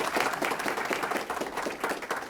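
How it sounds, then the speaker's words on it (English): Audience applause at a partnership signing event, a brief burst of many hands clapping in a room, fairly loud and dense throughout. "Give him a round of applause"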